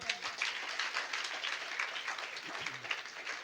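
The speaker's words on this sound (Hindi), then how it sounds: "डॉक्टर विजय सर के लिए जोरदार ताली" Audience applause at a testimony gathering, a steady wash of many hands clapping at moderate level, without speech over it.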